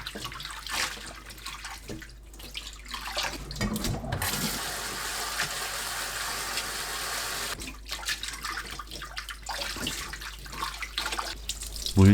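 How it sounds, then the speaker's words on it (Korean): Blanched shepherd's purse is rinsed under cold running water from a tap, a steady gushing flow broken by short gaps and changes as the greens are moved beneath the stream. "찬물에 헹굽니다."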